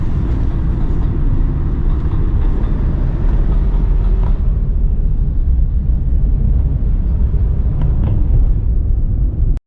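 A loud, steady low rumble of a passing train fills the scene, heavy and continuous, easing slightly partway through.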